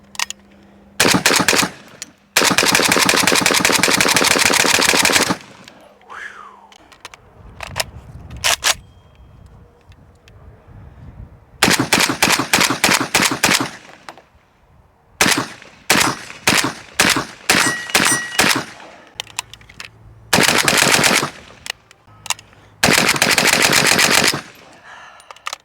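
An AK rifle fitted with a 1791 Industries Magnite handguard fires loud, close bursts of rapid automatic gunfire, some long and sustained, others short strings and single shots, with brief quiet gaps between.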